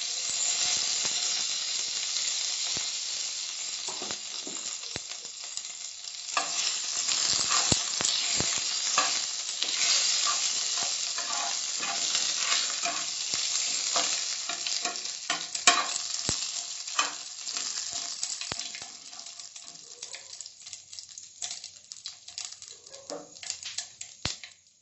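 Curry leaves spit and crackle in hot oil while being stirred, for a Karnataka-style curd rice tempering; a dense, steady sizzle with scraping stir strokes, loudest in the middle and easing toward the end, with no voices.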